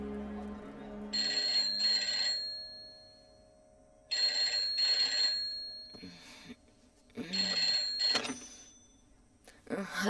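A telephone rings in three bursts of trilling electronic bells, each about a second long and separated by pauses, loud and close, with faint background sounds between the rings.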